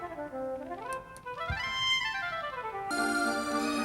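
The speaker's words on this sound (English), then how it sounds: "This is the sound of the oboe." Synthesized oboe voice from a PlayStation's internal sound source plays a short legato phrase of rising and falling notes, quiet and alone, with a brighter tone entering near the end.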